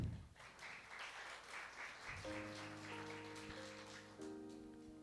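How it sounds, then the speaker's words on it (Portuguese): Steady applause from a church congregation fills the room during a service, then sustained organ or keyboard chords rise beneath the clapping. "Salva de palmas, igreja."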